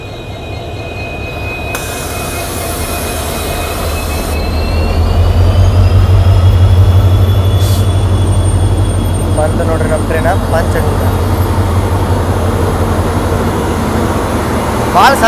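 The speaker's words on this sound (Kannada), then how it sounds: "ಮುರುಡೇಶ್ವರ ರೈಲ್ವೆ ಸ್ಟೇಷನ್ ಹಂಗೆ ನಮ್ಮ ಟ್ರೈನು ಎಂಟ್ರ್ ಆತ ಪಂಚಗಂಗಾ ಸೂಪರ್ ಫಾಸ್ಟ್" The Panchaganga Superfast train rolls into Murudeshwar railway station with a loud, heavy rumble of wheels and a long high whine that swells and holds, while voices are heard faintly underneath.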